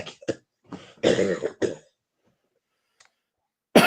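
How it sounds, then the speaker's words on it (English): A run of harsh, close coughs and throat clearing, a pause of near silence, then another cough bursts in at the end. "Sorry, I just had to cough up a lung."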